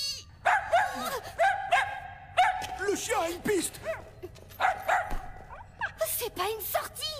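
Cartoon dog in an animated adventure barks and yips repeatedly in sharp, close bursts with whimpers between, while voices talk over and around the barking.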